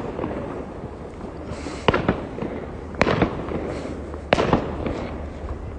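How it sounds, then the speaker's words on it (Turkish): Fireworks bursting over Rotterdam in early evening daylight: several sharp crackling bangs and pops in irregular clusters about a second apart, fairly close and loud against a low background hum. "Bu saatte hava fişek. Hava bile kararmadı."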